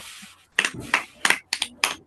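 Children clapping for themselves during a kids' session, five short bursts of hand claps in a quick, uneven rhythm, fairly close and moderately loud, with no talk over them.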